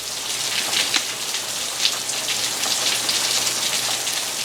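Steady rain pours down during a hurricane, a dense continuous hiss of drops striking surfaces close by with occasional heavier splatters, no voices.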